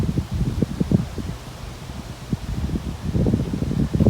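Gusty wind sweeps through rustling leaves outdoors, a steady low roar with crackling bursts that swell and fade, no voices.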